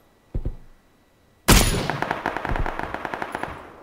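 Enemy gunfire in a video game: two quick shots, a pause, then a sharp burst followed by a rapid string of automatic fire, crisp and fairly close.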